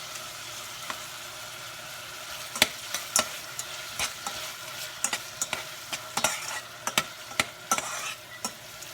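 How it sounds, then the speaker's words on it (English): Melted onions and sugar stirred in a pot for Trinidadian stewed lentils, with a quiet sizzle under repeated sharp clicks and scrapes of a spoon against the pot, growing busier toward the end. "I'm going to add my sugar, and I'm going to give that a mix"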